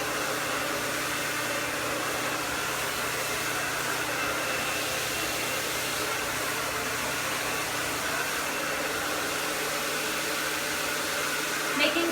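A hair dryer blowing steadily and close while hair is stretch-dried section by section during blow-dry training, a continuous whooshing roar with brief handling sounds near the end.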